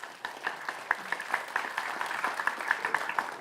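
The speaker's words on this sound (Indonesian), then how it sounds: "Boleh tepuk tangannya?" Audience applause at a public debate for Cilegon mayoral and deputy mayoral candidates, a steady moderate patter of many hands with sharper individual claps standing out, sustained throughout at a medium distance.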